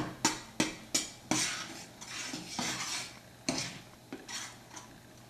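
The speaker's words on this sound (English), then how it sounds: "Just keep stirring until they're fully melted." A utensil stirs melting marshmallows over candied yams in a pan, giving crisp clinks and scrapes against the metal at an uneven rhythm, close and fairly loud, with no talking.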